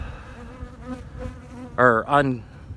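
Honey bees buzz steadily in the background at a hive fitted with queen castle starter frames, with a louder burst of close buzzing near the end.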